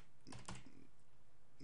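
Brief burst of keystrokes on a computer keyboard, a few quick clicks clustered near the start, then quiet room tone.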